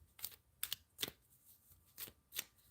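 Tarot cards shuffled by hand during a live tarot reading, heard as five quick, crisp riffling bursts spaced irregularly, close and fairly quiet, with no voices.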